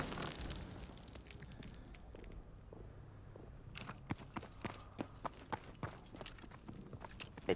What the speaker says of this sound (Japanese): めっちゃ足音すんだけど